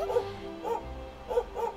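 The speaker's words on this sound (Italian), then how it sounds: "Il cano che abbaia" Dog in Dragon Quest XI giving four short, yipping barks in uneven pairs, fairly close, over a soft bed of game music.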